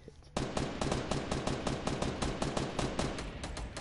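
Sustained rapid gunfire from a fight overhead in Fortnite, starting abruptly after a brief quiet moment and continuing as a dense, steady stream of shots.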